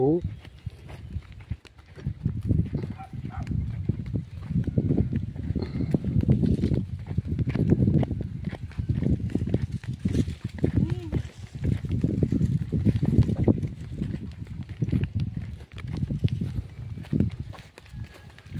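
A cow's hooves clop steadily on hard ground in a rhythmic, horse-like walking pattern, with people talking over the footsteps.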